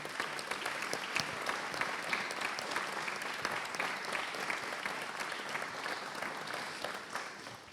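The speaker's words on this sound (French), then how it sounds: "je vous demande d'applaudir" An audience applauds with continuous, fairly quiet clapping that holds steady for several seconds and thins slightly at the very end.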